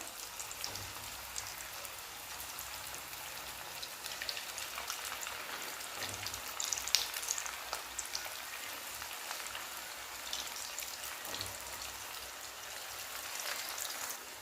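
Vadis made from stale chapati shallow-frying in oil on a low flame, a soft continuous sizzle and crackle with faint pops, steady and fairly quiet throughout.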